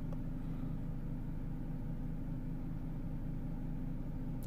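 A Vauxhall/Opel Insignia 1.8 petrol engine with a lean-running fault (P0171) idles steadily and close by, a low even hum with a faint rhythmic pulse and no voices.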